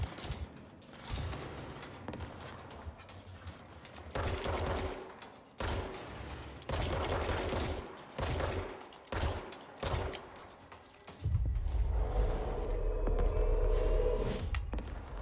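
Sustained exchanges of gunfire in the video game Control, with dense bursts of shots and mechanical clatter stopping and restarting, loud and close, ending in a heavier rumbling stretch.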